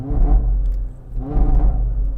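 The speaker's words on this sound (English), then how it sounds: "I might be able to send out a signal to you in the form of my raspy exhaust" A BMW M5 engine revs twice, each a deep, raspy exhaust swell rising and falling, loud and close.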